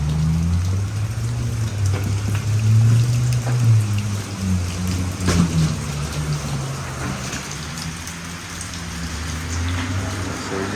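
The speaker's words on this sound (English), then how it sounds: "it's raining like a fool out here today" Heavy rain pours outside a tire shop, a dense continuous hiss of drops on surfaces with a low steady rumble beneath, loud and unbroken throughout with no talking.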